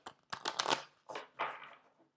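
Oracle cards being shuffled by hand, a few quick riffling bursts followed by two softer shuffles, close and fairly quiet with no talking.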